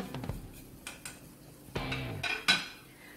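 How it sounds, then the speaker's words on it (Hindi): A spoon stirs spices into a rava vegetable cutlet mixture in a bowl, giving a few soft scrapes and light clinks against the dish, quiet and close. "वापस से इसे अच्छे से मिक्स कर लेते हैं।"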